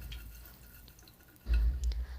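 Mustard seeds splutter in a few spoonfuls of hot oil in a pan, faint scattered pops that grow into a louder burst of crackling near the end.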